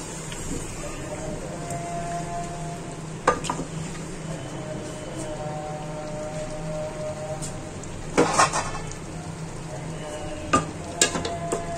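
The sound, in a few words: potatoes being roasted and stirred in a pan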